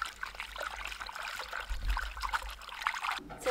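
Water is poured over chopped pieces of a large fresh fish, which are swished and rinsed for braised fish. A continuous close trickle and slosh runs throughout, with a brief clatter near the end.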